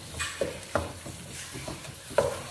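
Green chillies and tomatoes are sautéed in a pan for Kannur Taliparamba style biriyani, a spoon scraping in several quick rhythmic strokes over a soft sizzle, close and clear with no talking.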